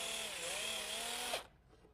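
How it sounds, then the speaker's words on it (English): A power drill whirs steadily while pre-drilling pilot holes in wood for soft brass hinge screws, close and quiet, winding down abruptly near the end. "I'm taking the precaution of pre-drilling the holes."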